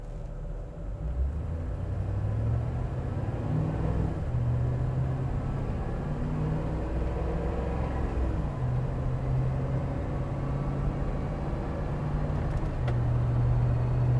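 A 1996 Land Rover Defender 110 pulls away with a steady low engine rumble and road noise from inside the cabin, moderate and continuous with no talk.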